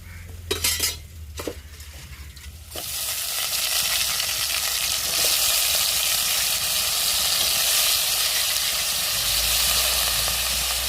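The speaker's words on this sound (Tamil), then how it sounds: "நம்ம நண்டை சேர்த்துக்கிறோங்க." Crab added to a pan of sautéed onion and tomato for crab gravy, with a few clanks of utensils at first, then a loud, steady sizzle and frying hiss that continues close by without talk.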